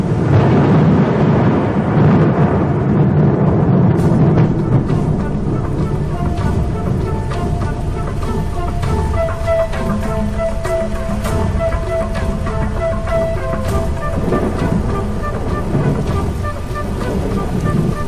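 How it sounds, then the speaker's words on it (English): Steady, dense rain roar with low rumbling underneath, continuous and loud throughout, like a heavy downpour with distant thunder. "the promised rain arrives at last"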